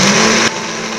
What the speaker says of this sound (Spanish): Vamos a tapar nuestra licuadora y lo vamos a moler a máxima potencia.